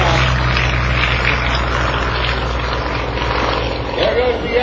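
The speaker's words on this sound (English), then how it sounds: "There goes the Yak-18, there goes the Yak-55." Yak-18 and Yak-55 propeller airplanes taking off together: a loud, steady propeller engine drone throughout with heavy wind rumble and an announcer-like voice underneath.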